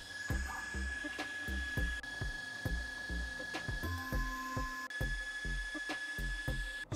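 AlgoLaser Alpha MK2 20W laser engraver working on a matte stainless steel plate, with steady high-pitched whine and fan hum under rapid irregular ticking and stepping motor clicks, close and continuous with no speech.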